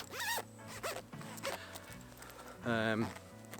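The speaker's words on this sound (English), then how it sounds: "So if I just zip this up for a second." A Helikon Tex Patriot fleece jacket mkII is zipped up in two or three quick rasping pulls, close and loud, between stretches of quiet handling.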